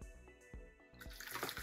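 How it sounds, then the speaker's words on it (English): Water poured from a pitcher runs through a clear pipe onto a small water wheel, a few soft drips at first, then a steady close splashing trickle for the last half second. "use the clear pipe to get water from the pitcher to"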